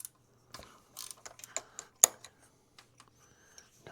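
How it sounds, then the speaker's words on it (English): Wrench working on engine valve adjusters under a valve cover, a run of light metallic clicks and ticks with scattered small knocks, close and fairly quiet, one sharper click standing out. "we'll have to do those with the wrench"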